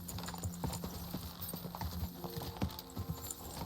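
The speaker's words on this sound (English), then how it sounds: "Sounds like your horse got asthma." A horse trots in the medieval video game Kingdom Come: Deliverance II, with rhythmic hoof clip-clops at a moderate distance and steady pace under quiet game ambience, joined by a few breathy snorts.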